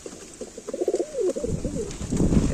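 A pair of pigeons in a cage gives several soft, close cooing calls, followed by a rustling, shuffling noise toward the end.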